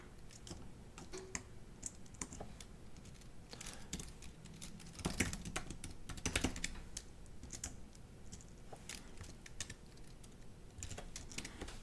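Fingers type on a computer keyboard while writing Bash code, quick irregular bursts of soft clicking keystrokes with brief pauses, close and quiet in an otherwise still room, with no talking.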